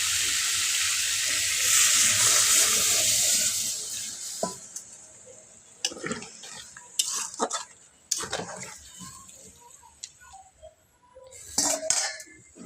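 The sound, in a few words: water being poured into the cooking pan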